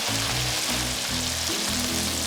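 Steady, loud sizzling and bubbling of spicy chicken wings deep frying in hot corn oil, continuous throughout with no talking.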